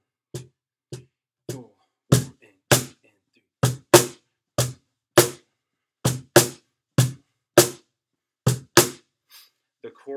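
Cajon groove for the Amazing Grace verse, played alone: sharp slap and bass hits in a steady, swung pattern of about fifteen strokes over ten seconds, close and crisp with silence between hits.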